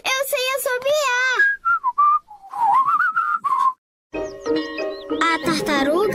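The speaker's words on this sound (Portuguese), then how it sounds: "Veja, Peppa, isso está parecendo um assobio. Que linda melodia." A cartoon character whistles a bright, wavering melody in short phrases with pauses between them, answered by a cheerful chiming jingle, and a character speaks briefly in between.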